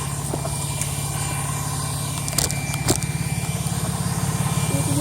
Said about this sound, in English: That's a big truck right there.